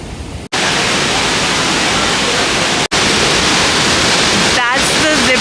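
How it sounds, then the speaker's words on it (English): A waterfall roars beside a zip line over a river at a resort, a loud, broad wash of rushing water that fills the scene with two brief dropouts. "Right next to the waterfall."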